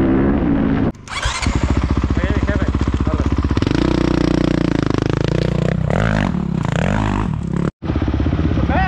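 A 2024 KTM 350 XCF dirt bike roars nearby, its engine revving hard and shifting pitch as it rides, with a brief cut in the sound near the end.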